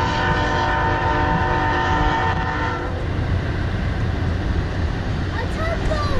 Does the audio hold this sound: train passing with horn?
yes